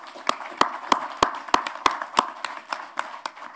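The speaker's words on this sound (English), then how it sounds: "So now I invite you to give a warm round of applause to Costa." Sparse, rhythmic clapping follows a speaker at a conference on trade and investment rules for sustainability, with a few hands striking in a steady beat and no crowd roar behind.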